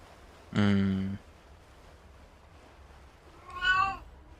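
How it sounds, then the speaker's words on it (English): A house cat meows twice, near and fairly loud, with a long clear meow followed by a shorter one after a pause, over quiet room tone. "Yes, cat."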